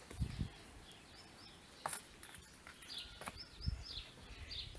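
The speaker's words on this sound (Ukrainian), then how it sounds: "пташки співають" Birds singing outdoors on a spring day after morning rain: scattered faint chirps and short tweets over a quiet background, with a few soft low thumps.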